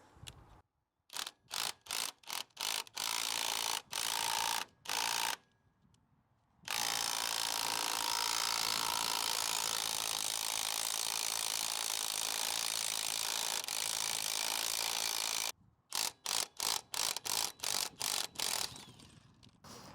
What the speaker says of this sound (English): We then put the impact drill on there